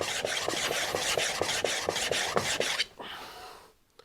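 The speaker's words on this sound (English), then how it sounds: "So now I'm just going to finish it up on this diamond sharpener, like so." Planer knife stroked back and forth on a diamond sharpener, a rhythmic rasping scrape repeating about twice a second, close and fairly quiet, then trailing off into near silence.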